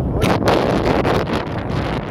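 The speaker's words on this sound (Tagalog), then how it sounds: "Napakalakas. Hangin humahampas sa akin." Strong gusty wind buffets the microphone at a rest house on Mayon Volcano, a loud roaring rumble with surging bursts throughout.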